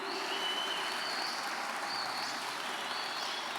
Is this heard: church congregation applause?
yes